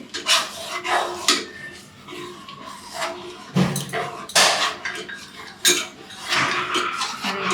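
A spoon scrapes and clinks against a pot as milk is stirred while it thickens, in irregular metallic strokes and rubs, close and moderately loud.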